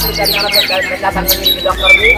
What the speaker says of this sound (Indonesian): ini burung dari, dari Om Johan atau dari take orang atau gimana